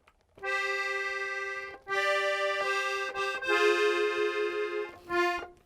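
An accordion plays a melody with two fingers, sounding a harmony under the tune: a string of sustained reedy notes in separate phrases, near and clear, with short gaps between them and no voices.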